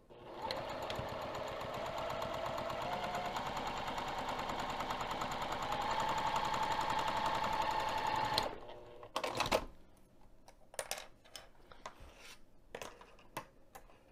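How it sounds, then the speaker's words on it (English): A sewing machine runs steadily for about eight seconds, stitching down a quilted bag lining with Insul-Fleece, a loud continuous whirring drone, then stops and gives way to scattered clicks and fabric handling. "so that I can stitch just the end portion down"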